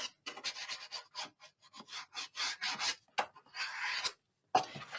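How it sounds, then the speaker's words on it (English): A bone folder or similar tool burnishing craft paper into the corners of a handmade Christmas book box, giving short, close rasping rubs in an uneven series of strokes with brief pauses between them. "So I'm going to burnish that."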